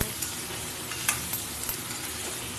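Onions sizzle steadily in a hot pan, a constant crackling hiss with occasional sharper pops, no voices.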